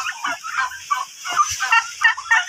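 A turkey cock gobbles in rapid, rattling bursts, loud and close, with several repeated calls and no talking.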